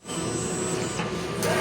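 Printer head of a large printing machine running with a steady mechanical whir and hum, a continuous close, moderately loud drone with faint shifts over under two seconds.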